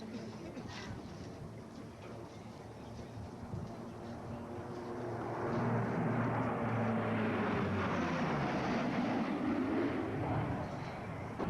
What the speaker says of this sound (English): The Herc is now coming in for a fast pass.